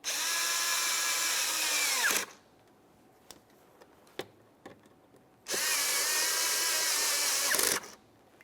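Power drill or impact driver snugging the mounting bolts of a mass air flow sensor on a 2001-2005 Ford Sport Trac XLT, two loud sustained whirring runs separated by a pause filled with faint clicks and handling taps.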